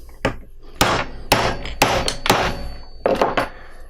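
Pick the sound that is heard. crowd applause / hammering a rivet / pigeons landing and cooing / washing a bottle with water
hammering a rivet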